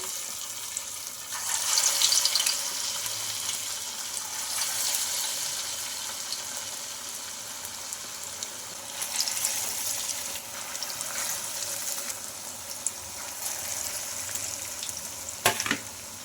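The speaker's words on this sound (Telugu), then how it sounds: "ఇంకా నేను ఇక్కడ మిగతా వాటిని కూడా ఇలానే ఫ్రై చేసుకోవాలి ఇప్పుడు ఆయిల్లోకి అయితే వేసుకుంటున్నాను" Puffed rice and gram flour vadas deep-fry in a kadai of oil, giving a steady bubbling sizzle throughout, with brief louder bursts as more batter goes in.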